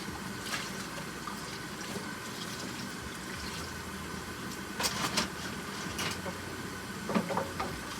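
Running water rinses plastic trays at a sink, a steady close splashing hiss that carries on throughout, broken by a few brighter clatters of plastic.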